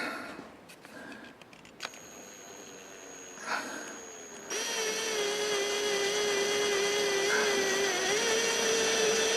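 A power drill bores a hole in the metal shifter handle of a Jeep AX5/AX15 transmission, still in the vehicle. A few faint clicks and taps come first, then a loud, steady whirring whine runs unbroken to the end.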